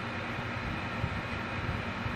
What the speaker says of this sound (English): All right. Train.